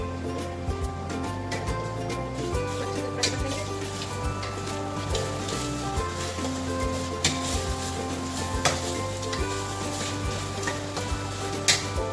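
Chicken manchurian frying in hot oil with soy sauce, a continuous close sizzle broken by scraping stirs and clinks of a utensil against the pan, with music running underneath.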